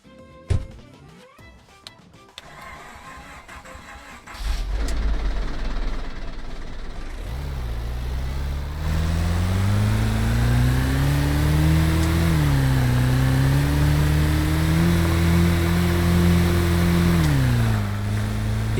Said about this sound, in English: it's time to try driving with the big trailer.